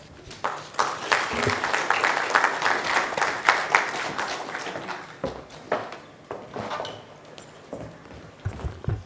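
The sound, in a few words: audience applause at a conference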